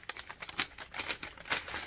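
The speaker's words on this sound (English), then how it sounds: "Sorry about the rustling." Close rustling and crinkling of what sounds like packaging or plastic being handled, a quick run of sharp, irregular crackles near the microphone, soft overall, with no voice.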